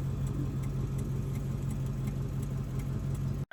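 A misfiring car engine, reading misfires on cylinders 1 and 2, barely running at idle with a rough, uneven low rumble that holds steady and close for a few seconds before cutting off abruptly.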